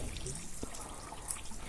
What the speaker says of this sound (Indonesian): yuk langsung kita cuci dengan air mengalir.